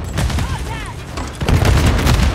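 A Semtex grenade detonates in a video game, a loud booming blast with crackling gunfire bursts around it, while shouting players talk over the action.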